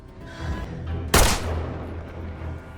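A single sharp gunshot cracks out loud and close amid a tense action scene, standing alone against a low rumbling background.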